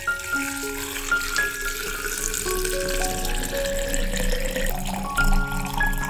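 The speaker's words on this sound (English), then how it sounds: "Add cold boiled water." Cold boiled water is poured into a container for an infused drink, making a continuous close trickle and splash whose pitch gradually rises as the vessel fills.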